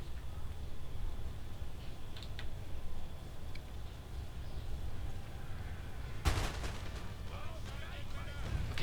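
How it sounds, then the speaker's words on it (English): Musket volley gunfire in a Napoleon: Total War battle on grassy flatlands, heard as one sharp, loud crackling burst over a low, constant battlefield rumble, with faint scattered shots before it. "after a volley, as you can see there, that volley takes out 10 men"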